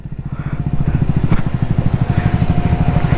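A Triumph Scrambler 400X motorcycle engine runs loud and close with a steady, throbbing pulse that builds as the bike gets under way, with one brief sharp knock in the middle.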